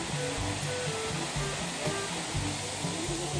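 Maligaya Falls runs with a weak flow, a steady broadband rush of falling water that stays constant and fairly close, with faint low tonal murmurs beneath it.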